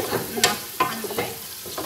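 Onions and carrots frying in a pan, a close steady sizzle with a few louder stirring scrapes spaced through it.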